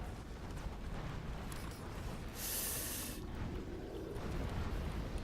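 Rocket explosions from the video game Risk of Rain 2 make a steady rushing blast, with one sharp, bright burst that stands out near the middle.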